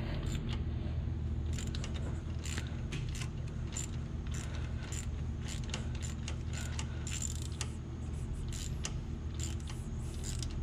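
A glow plug is screwed back into an International 6.9 diesel engine with a ratcheting tool, giving rapid, close metallic clicks over a constant low hum and no talking.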